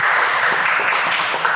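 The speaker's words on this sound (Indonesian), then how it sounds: "Tepuk tangan dulu dong." An indoor audience at a talk event in Kediri claps together in a short, dense burst of steady applause, heard up close without any voices.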